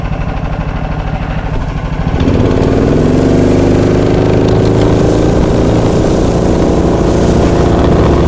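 A motorized snow tug pushes through deep, drifted snow, its small engine idling with a rhythmic putter before revving up into a loud, steady close drone as it drives on, with no talking.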